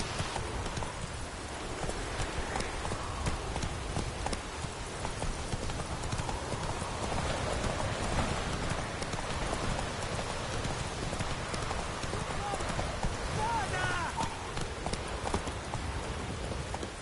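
Roach, the horse in The Witcher 3, gallops with rapid rhythmic clip-clop hoofbeats throughout, moderately loud over a rain-like hiss of background ambience, with no talking.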